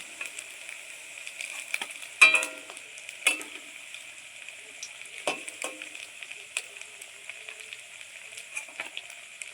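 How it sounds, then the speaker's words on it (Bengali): Semolina pitha frying in hot oil makes a steady, close sizzle with a bright hiss throughout, broken by a few clinks and scrapes as pieces are lifted out, with no talking. "দেখো এরপর ভাজা হয়ে গেছে এরপর তুলে নেওয়া হচ্ছে"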